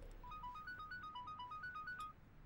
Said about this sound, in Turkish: cebin çalıyor